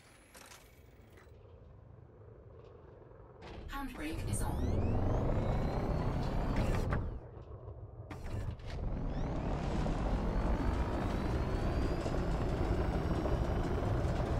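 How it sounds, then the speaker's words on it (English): A spaceship in the video game Elite Dangerous: Odyssey returns to land, a loud mechanical roar and whine that swells in over several seconds with rising tones, broken by brief pauses, then holding steady and strong. "That noise is my ship coming back."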